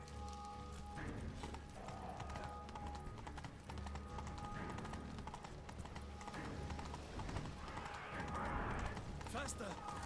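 Roach, a horse in The Witcher 3, gallops in a continuous rhythmic clip-clop of hooves with a whinny, steady and close, while a person talks over the hoofbeats.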